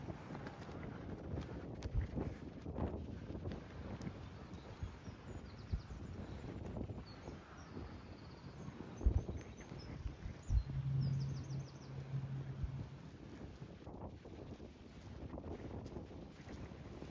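Strong wind on a sunny, very windy day, buffeting and rumbling steadily across an outdoor microphone with gusty swells and occasional thumps, with no voices.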